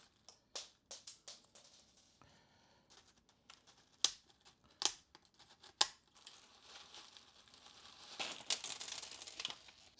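Close, quiet snips and crinkles as a plastic plant pot is cut open, a series of sharp separate cuts followed by a longer stretch of rustling plastic.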